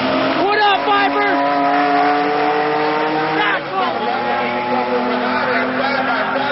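A Dodge Viper GTS and a Lamborghini Diablo drag race side by side, their engines roaring loudly and steadily with rising revs, then a second surge of acceleration midway. An announcer talks over the noise throughout.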